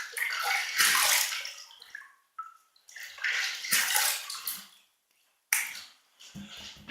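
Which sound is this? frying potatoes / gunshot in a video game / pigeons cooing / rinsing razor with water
rinsing razor with water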